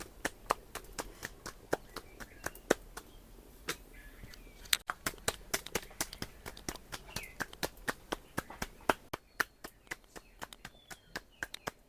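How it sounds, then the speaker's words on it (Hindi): Thick millet flatbreads (tikkad) patted flat by hand at an outdoor hut, a quick series of sharp slapping claps, close and loud, repeating irregularly throughout with no talk. "देखिए किस तरह से पो के बनाते हैं हाथों से मोटे मोटे टिक्कड़।"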